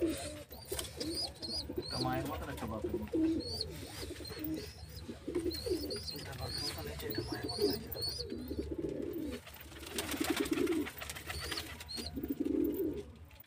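Giribaz high-flying pigeons coo in a loft, making soft repeated coos and rustling close by while someone talks over them.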